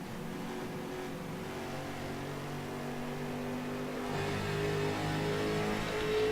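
A race car engine in a sim racing sprint series event at Rockingham drones and revs steadily, its pitch rising toward the end, like an onboard or nearby car holding a continuous note with no talk over it.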